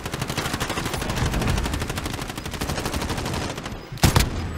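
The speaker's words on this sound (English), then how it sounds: "I think there's someone shooting around here." Rapid automatic gunfire in Call of Duty Warzone, a long fast rhythmic burst of close shots that stops briefly, then one sharp loud shot near the end, no talk.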